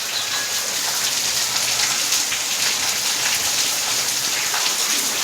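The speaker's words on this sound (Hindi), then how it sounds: "देखो बारिश आ रही है" Steady rain pours down in a dense, continuous hiss at close range, unbroken for the whole stretch with no voices.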